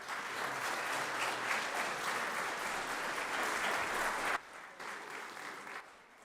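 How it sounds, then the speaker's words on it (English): Audience applause at a Board of Mayor and Aldermen meeting: steady, dense clapping from a room of people, loud and continuous, then dropping off suddenly into a softer, thinning patter. "Give another round of applause."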